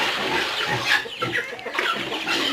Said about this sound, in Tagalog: Pati manok nakikiagaw.